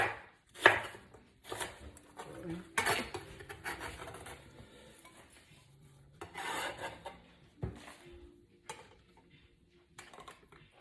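A knife chops ingredients for pollo guisado on a cutting board in scattered knocks and scraping strokes, close and fairly quiet, with occasional rubbing and clatter in a kitchen.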